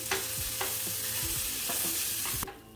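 Black chickpeas being stirred into spices in a pan over a low flame, a close, steady sizzle and frying hiss with repeated scraping strokes of a spoon against the pan, with no talking.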